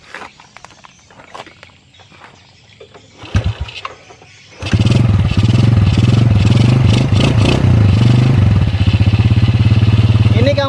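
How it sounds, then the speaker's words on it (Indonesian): A motorcycle with a newly fitted, still unadjusted carburetor is kicked over a few times with loud clunks, then fires and settles into a loud, steady, throbbing idle with slight revs, recorded close up. "Kita coba nyalakan dulu motornya lah."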